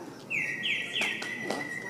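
Mechanical animatronic songbird, a European-made piece shown at a theme park animatronics panel, giving a few bright whistled chirps that slide and hold, fairly close over a faint room murmur.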